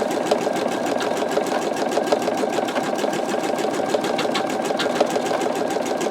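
A 7511 embroidery machine stitches out a skull design, its needle chattering in a fast, steady, even rhythm close by, loud and continuous without any talk.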